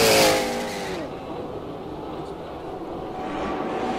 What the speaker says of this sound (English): Here is the 40 Dempsey Racing Mazda.